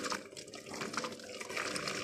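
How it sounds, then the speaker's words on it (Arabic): Hot water poured beside cups of homemade yogurt, a soft continuous splashing trickle at low level, steady with slight fluctuations and no talk. "كده بقى احط المية السخنة بس بعيد يعني عن كوبايات"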